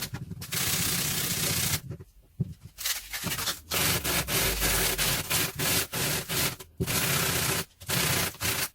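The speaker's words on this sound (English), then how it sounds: "I've been sanding now for about 20 minutes non-stop" A white paper ball is sanded by hand, producing loud close rasping strokes in quick repeated bursts separated by brief pauses.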